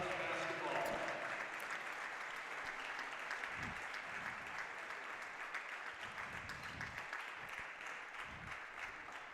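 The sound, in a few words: crowd applauding at basketball senior night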